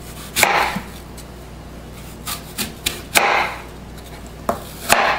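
A knife chops straight down through an apple on a cutting board, several sharp, close thuds at irregular intervals with quiet pauses between.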